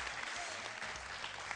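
Audience applause at a Russian team game show, steady clapping from a studio crowd filling the short moment at an even level.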